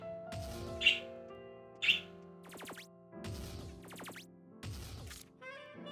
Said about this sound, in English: for those of you who get tired of listening to the birds